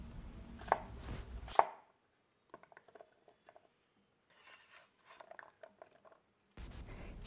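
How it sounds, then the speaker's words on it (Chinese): A knife dices radish into small cubes on a cutting board for pickling: two short bursts of quick, crisp chops open the clip, then a near-silent stretch with faint handling noises, and more rapid chopping starts at the very end. "切成块，再切成小丁。"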